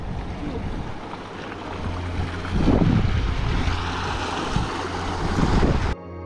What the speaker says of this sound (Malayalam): രണ്ടാമത്തെ മലയിലോട്ട് ഇറങ്ങി ചെല്ലുമ്പോൾ തന്നെ നല്ലൊരു നീരുറവയുണ്ട്, നല്ല ഫ്രഷ് വെള്ളമാണ്